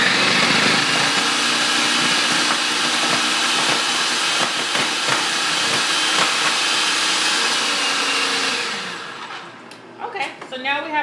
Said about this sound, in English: So now we have our butter shredded